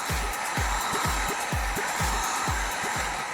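A heat gun blows hot air steadily onto a plastic panel to soften it for bending, a continuous close roaring hiss with a faint regular low pulsing beneath it.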